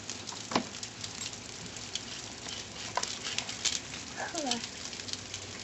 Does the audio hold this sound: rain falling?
yes